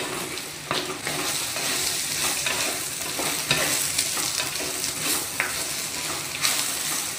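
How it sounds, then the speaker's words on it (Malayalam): A ridge gourd pepper fry is stirred in a pan, with soft repeated scraping strokes over a gentle, steady sizzle, close and fairly quiet with no talking. "ഇനി നന്നായിട്ട് നമുക്ക് മിക്സ് ചെയ്ത് കൊടുക്കണം."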